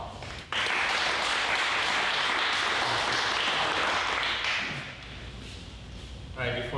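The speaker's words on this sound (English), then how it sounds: "So let's give Boyang a round of applause." Sustained applause from an audience, loud and steady for several seconds before tapering off, with a voice starting to speak at the end.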